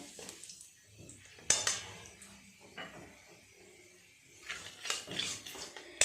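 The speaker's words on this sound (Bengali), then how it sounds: "একটুখানি নেড়ে চেড়ে নেব কালো জিরে আর হিংটা।" Asafoetida and nigella seeds are stirred in hot oil in a kadai, giving soft sizzling under faint scraping, with sharp metallic clinks of a utensil against the pan in two bursts.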